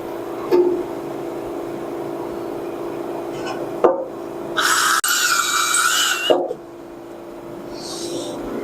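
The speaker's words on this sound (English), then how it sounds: "Now we can drill the other side." A power drill bores into a part on a John Deere snowthrower in a quiet workshop, one short whining burst of about two seconds, followed by a faint shorter spin, with small clicks and knocks around it.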